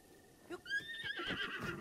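A horse in Breath of the Wild whinnies while being tamed, a rising then wavering neigh close up, followed by huffing snorts and stamping under a low game ambience.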